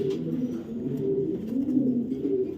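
A female racing pigeon, a top-quality club racer, coos in a continuous low, throaty burble, close and fairly loud, with no voices over it.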